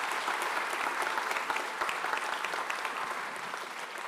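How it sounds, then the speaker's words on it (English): Steady, loud applause from a seated audience at a medical school white coat ceremony, honoring the students' families and supporters, with dense clapping continuing evenly throughout and no voices over it. "why don't you give them a round of applause?"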